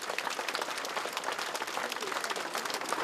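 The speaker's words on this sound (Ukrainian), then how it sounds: "У дорогу катафалк проваджали тривалими оплесками" Long, sustained applause from a crowd in Ukraine seeing off a hearse carrying a fallen opera singer, dense steady clapping throughout with no break.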